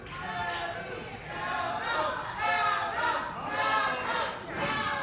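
A wrestling-event crowd at ACW Proving Ground roars and chants in loud, swelling waves of massed voices that rise and fall steadily for several seconds.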